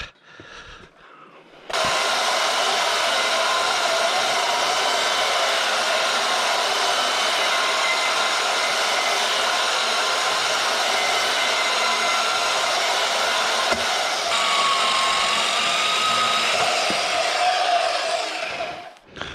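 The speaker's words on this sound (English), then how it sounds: "Pulling out the trusty, dusty portable bandsaw." Portable bandsaw cutting metal for a swing arm mount, starting after a brief quiet moment and then running as a steady, even whine that continues almost unbroken before stopping at the end.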